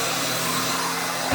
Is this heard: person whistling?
no